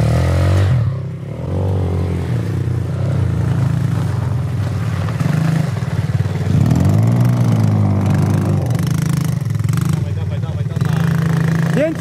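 A Chinese-made motorcycle engine idles and revs in a steady low drone, swelling in pitch midway, with someone talking loudly over it.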